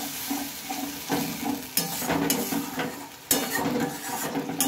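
A spice paste with a little water being stirred in oil in a pan, with a loud bubbling sizzle and repeated scraping and clinking of the spoon in uneven bursts.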